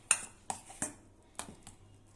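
Spoon scraping a pan of thick, dried-out kalakand milk mixture taken off the heat: about five sharp metallic clinks spaced irregularly, close and moderately loud, with quiet gaps between.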